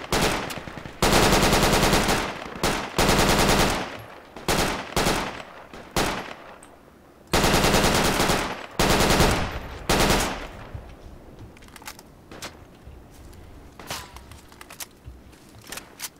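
Bursts of automatic gunfire in a shooter video game, loud repeated volleys broken by short gaps and single shots that thin out toward the end.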